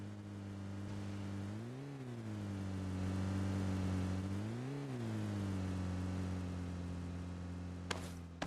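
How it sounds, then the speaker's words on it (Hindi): A car engine in a video game drones steadily as the vehicle approaches, its pitch swelling twice as it revs, moderately loud and continuous, followed by a brief sharp knock near the end. "तब तक मुझे गाड़ी की साउंड आती है"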